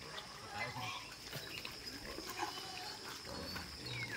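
Native pigs at a farm resort in Sablayan, Occidental Mindoro, grunting and squealing at feeding time, with scattered animal noises over a busy, steady outdoor background while people talk nearby.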